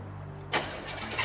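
A cold 1971 Chevrolet Chevelle engine fires up, a brief quiet crank giving way to a sudden loud catch into a rough, rumbling idle, close by.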